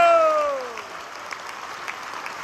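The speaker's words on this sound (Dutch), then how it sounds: "Geef hem een fucking groot applaus." Concert crowd applauding a sound engineer named Joost Muller at a show in Ede, a broad wash of clapping under fading sustained musical tones, steady and moderately loud throughout.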